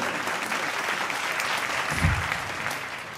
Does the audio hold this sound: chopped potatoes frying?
no